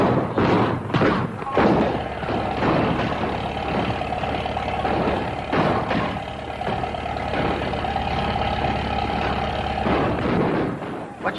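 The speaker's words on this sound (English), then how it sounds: "What's all that racket? Sounds like gunfire." Cannon fire booms in a series of heavy, irregular thumps, loud and close, over a continuous low engine-like rumble that persists throughout.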